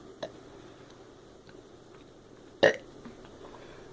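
One short, abrupt burp follows chugging a drink in a burping challenge. It stands out loudly against quiet room noise and faint ticking sounds.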